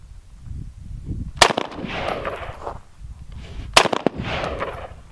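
A 50 calibre gun fires at a bulletproof jacket outdoors, two separate loud, sharp blasts a couple of seconds apart, each trailing off in a rumbling echo over quiet background noise.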